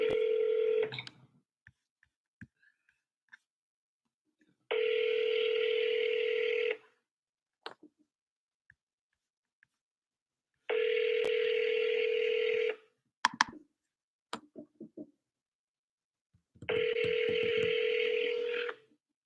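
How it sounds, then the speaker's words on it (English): A telephone call rings out as repeated long ringback tones, each lasting about two seconds with long silent gaps between them, together with a brief burst of dialing tones, all clear and close with no one talking. "Try to get Chin on the phone here"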